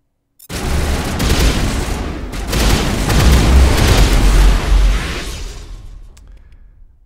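Heavy gunfire erupts in a Mass Effect Legendary Edition battle: after a brief silence, sustained volleys of shots and booming impacts pile up loudly for several seconds, then taper off.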